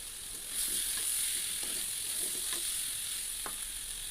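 Potatoes sizzle in a hot pan with green chillies, a steady loud frying hiss running throughout with a few soft clinks and stirring scrapes, no voices.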